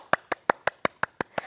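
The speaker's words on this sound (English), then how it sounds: "Give yourself a big clap" Eight sharp, evenly spaced hand claps from children in a kids' drum music class, crisp and close, steady and slightly quickening, with no talking.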